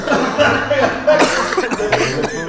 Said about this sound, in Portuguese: Vou aproveitar pra tossir